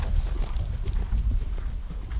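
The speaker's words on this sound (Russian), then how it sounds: "Очень хорошая лошадь" Horse hooves thudding over ground during a cross-country eventing ride, a quick uneven run of dull muffled beats close by, without clear speech.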